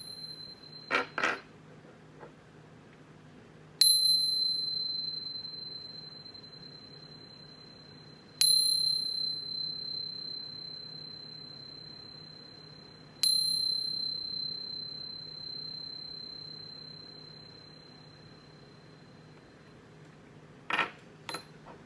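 A bright metal chime rings out before a tarot reading: three clear, ringing strikes spaced several seconds apart, each fading slowly in a quiet room, with soft clinks at the start and end.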